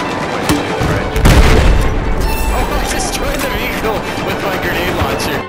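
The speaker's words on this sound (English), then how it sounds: "threw a grenade here" A grenade blast in Battlefield 4 lands as a loud, deep boom about a second in, over a steady din of gunfire and battle noise that carries on throughout.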